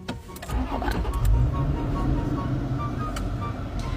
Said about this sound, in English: So in my new truck, look what happens every time I turn it on